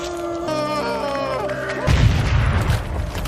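A burst of explosion effect, a body blowing apart in a horror film recap, hits hard and broadband after a musical tone passage, then rumbles on loudly for over a second.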